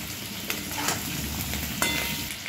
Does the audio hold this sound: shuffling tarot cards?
no